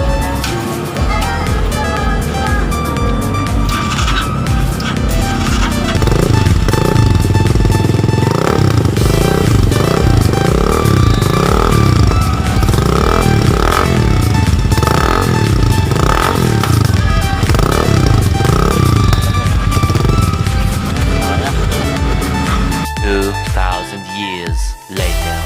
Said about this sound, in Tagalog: tapos na tayo sa pinagawa nating muffler at na-sound check na rin natin